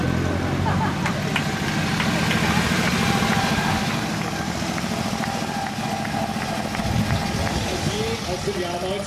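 A vintage Daimler car engine runs hard at full throttle at a classic car event, a steady loud rumble that continues throughout the clip.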